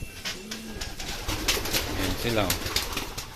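Pigeons coo repeatedly nearby as a flock is released to fly for a summer race toss, with some wing flapping and someone talking over the birds outdoors.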